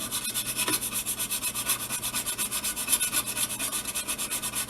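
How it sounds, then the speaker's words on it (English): Sandpaper rubs back and forth over wood to shape a model glider aerofoil, a close, even rasping rhythm of rapid strokes that continues throughout with no voices. "I'm going to sand this. I'm going to take off quite a bit of wood."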